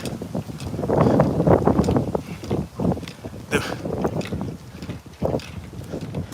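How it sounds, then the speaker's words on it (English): Outdoor wind blowing steadily on a hot day, a loud rushing roar across the microphone with uneven gusts that swell and dip throughout. "The wind is very soothing, man."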